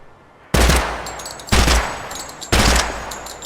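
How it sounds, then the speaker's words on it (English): Three loud, evenly spaced rifle shots from a 5.56 or 30-06 weapon test in a video game, each a sharp blast with a brief ringing tail, about one second apart. "shooting all the bullets at the same time"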